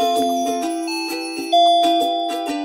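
A doorbell chimes a clear ding-dong when pressed, with sustained bright tones repeating several times. The chime is loud and close, with no voices.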